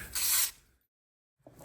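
Short hissing burst of carburetor cleaner sprayed onto a generator's carburetor, lasting about half a second, followed by silence and a faint clunk at the end.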